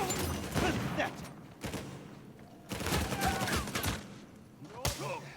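Bursts of rapid gunfire in the Uncharted 4 survival co-op mode, several volleys of overlapping shots with short lulls between them, loud and close.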